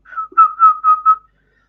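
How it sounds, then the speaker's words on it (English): A person whistles a short tune of five or six clear, steady tones into a CB radio microphone, close and fairly loud, then silence. "give it a bit of a whistle"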